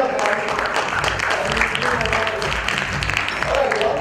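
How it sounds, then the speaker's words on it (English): Applause from an audience at a panel discussion, steady dense clapping throughout with a voice faintly audible beneath it. "first round of applause"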